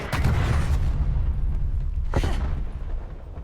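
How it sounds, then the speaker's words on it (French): Artillery strike landing in Call of Duty Black Ops Cold War: a heavy rumbling blast opens the clip, followed about two seconds later by another sharp boom, with low rolling noise between. "Frappe d'artillerie en approche."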